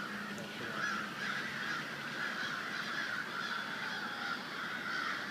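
Geese honking in Loring Park, a continuous chorus of many birds calling at moderate distance, with no pauses in the racket.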